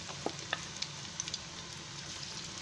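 Chicken pieces for Chicken Manchurian fry in a shallow pool of oil, giving a faint, steady sizzle with a few soft pops and clicks near the start and no voices.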